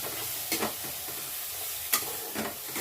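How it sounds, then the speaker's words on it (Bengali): Homemade spice paste of onion, garlic, ginger, cumin and tomato fries steadily in a pan, a broadband sizzle with a few louder stirring scrapes, close and without talk. "দেখো সুন্দর করে আমি মশলাটাকে একটু ভেজে নেব।"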